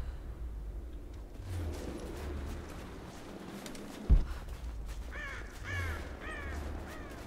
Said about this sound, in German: der Vogel. Als ob der jetzt wegfliegt.